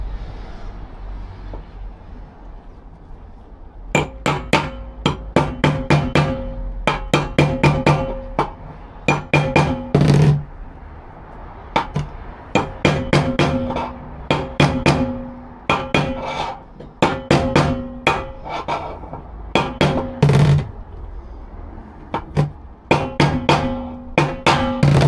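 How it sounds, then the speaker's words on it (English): Metal hammering on parts for an MR2 VW turbo engine swap kit in a workshop: sharp, loud, close strikes in irregular bursts of rapid blows with short pauses, ringing metallically, no talking over them. "So when I'm hammering here,"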